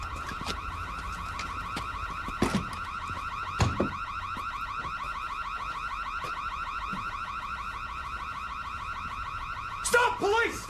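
A car alarm blares continuously with a steady pulsing tone throughout, fairly loud and close, with a few brief knocks and a burst of voices and movement near the end during a police call-out.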